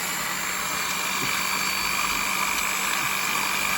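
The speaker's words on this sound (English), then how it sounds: "I'm going to use the drill just to make the hole a little bit bigger" A steady, continuous whir of a power drill widening a hole in a grain spawn jar lid, running without pause, loud and close, with a constant high-pitched whine throughout.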